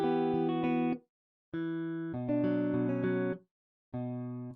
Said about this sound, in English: this right here is how the guitar sounds without any effects